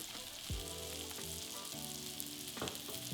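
Shrimp fry in oil in a pan with a steady, hissing sizzle, broken by a few faint clinks and shifts as the pan is handled.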